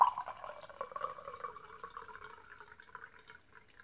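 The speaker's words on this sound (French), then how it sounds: "Vous allez verser l'eau dans la situation actuelle." Water pours from a container into a cup, a light trickling splash that starts strongest and gradually tapers off over a few seconds, heard alone with no talking.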